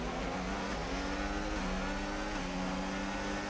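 Race car engine in the F1 25 video game, a steady high-pitched engine whine with shifting pitch as the car brakes and accelerates, loud and continuous with no talk.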